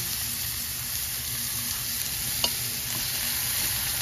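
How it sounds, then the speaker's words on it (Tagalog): Vegetables for lumpia stir-fry in a pan with a steady, close sizzle and one brief scrape of a utensil, with no voices. "Yan, ilagay na natin ang ating gulay."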